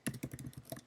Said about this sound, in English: I type in my first name